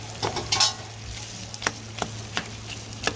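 A spoon stirring ground chilli, ginger and coconut paste frying in a pan, soft scraping strokes at irregular intervals over a steady low sizzle and hum, close and fairly quiet, no talking.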